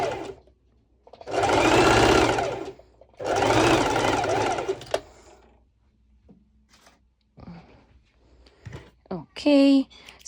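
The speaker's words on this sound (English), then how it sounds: "I'm doing a basting stitch" Household sewing machine runs a basting stitch in two loud, steady bursts of rapid whirring, each lasting over a second, followed by quieter handling sounds and a brief final burst.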